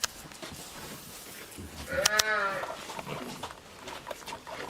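A ram on a farm lets out one loud, wavering bleat midway through, set against a quiet background of shuffling livestock at evening feeding time.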